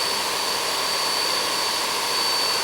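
An SMTCL SMVMC1600B50T CNC vertical machining center with its spindle running, a steady loud whine and broadband roar with a sustained high tone, continuous and without speech.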